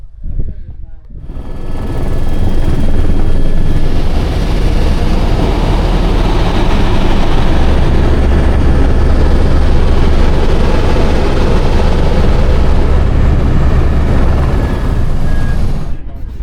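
Loud, steady helicopter cabin noise from a flight on Mount Everest: a heavy low rotor and engine roar with broadband rush that holds constant for about fifteen seconds, with no voices heard over it.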